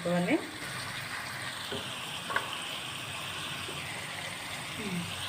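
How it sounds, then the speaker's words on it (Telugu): Curry leaves and a little chopped onion frying in oil in a pan for stuffed brinjal fry, a steady close sizzle with a few metallic stirring clinks and scrapes. "కరివేపాకు వేసుకొని ఫ్రై చేసుకుందాం"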